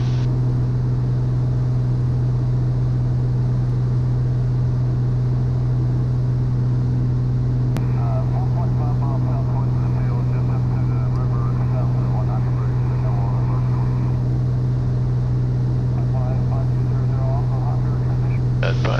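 Steady loud drone of a Cirrus SR22T G6 propeller airplane inside the cabin on landing approach, a constant engine hum throughout with intermittent talk over it.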